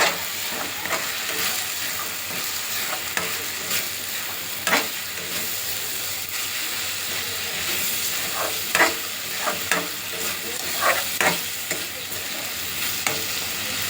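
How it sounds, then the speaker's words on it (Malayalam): Grated coconut is stirred into shark thoran frying in a pan, with a steady close sizzle broken by repeated scraping strokes of the spoon and no voices. "തേങ്ങ ഇട്ടിട്ട് നല്ലോണം ഇളക്കുക"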